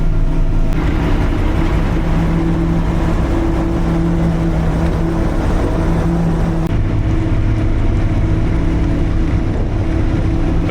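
A BRDM-2 amphibious armoured car drones steadily at low revs while floating on water. The engine rumble is continuous and fairly loud, with a wash of wind and water around it.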